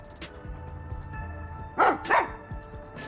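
Dog named Sugar barking twice in quick succession in the video game Master Detective Archives: Rain Code, two loud close yaps over a low ambient game soundtrack.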